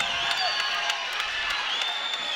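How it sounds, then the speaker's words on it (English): An arena crowd at a college wrestling match between UVU and Oklahoma roars and cheers continuously, a broad, steady wash of voices with scattered whoops and claps at moderate loudness. "The crowd is stoked."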